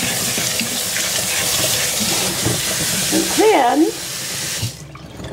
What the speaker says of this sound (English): So I'm just going to give them one good rinse.